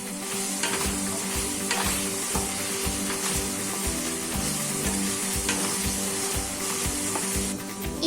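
Ginger garlic paste gets stirred into onions frying in a pan for a radish curry. A loud continuous sizzle runs throughout, with regular scraping strokes of the spoon close by.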